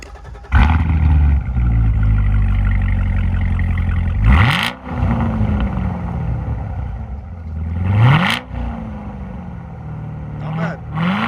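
A stock C7 Corvette V8 revs and accelerates loudly and close, climbing through several gear pulls with deep roaring sweeps between shifts.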